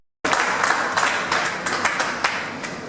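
Audience applause at an award ceremony in Chakwal rises suddenly after a brief silence and holds as a dense, steady wash of clapping that slowly thins.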